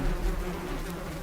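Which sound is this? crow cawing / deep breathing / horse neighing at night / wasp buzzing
wasp buzzing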